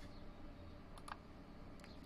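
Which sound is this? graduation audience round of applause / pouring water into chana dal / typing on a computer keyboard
typing on a computer keyboard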